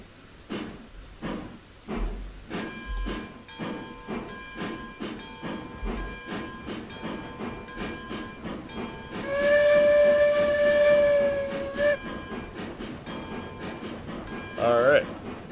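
A steam locomotive in the game RailRoads Online chuffs in a steady rhythm, then a long, loud steam whistle blows for a few seconds, followed by hissing and a short toot.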